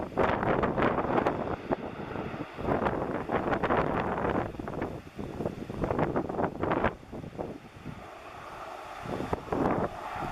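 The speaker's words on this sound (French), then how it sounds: "Il y a du vent, hein." Wind gusting over a microphone outdoors, producing loud, continuous rumbling buffets with irregular surges and brief dips throughout.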